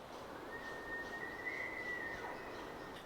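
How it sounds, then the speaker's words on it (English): A distant elk bugle in hunting country: one long, thin, high whistle held for about two and a half seconds, faint against a steady wash of wind and background noise. "there's some elk bugling towards the area that I'm heading into"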